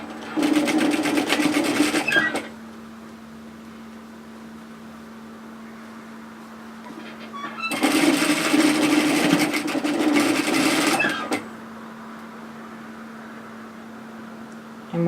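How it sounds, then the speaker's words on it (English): Sewing machine stitching a bulky seam on a woven kimono robe, running in two loud steady bursts of about two and three seconds separated by a quieter low hum while stopped. "we're going to sew that seam"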